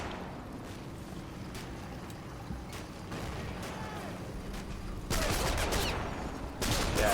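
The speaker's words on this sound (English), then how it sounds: "Those guys are shooting over there now, aren't they?" Gunfire in the WWII tactical video game Combat Mission Final Blitzkrieg rattles in the distance as scattered faint shots, then swells into two louder, denser bursts of fire toward the end.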